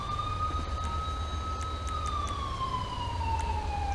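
An ambulance siren in the video game GTA V wails steadily with a slowly falling pitch, loud and continuous over a low engine rumble, with no talk.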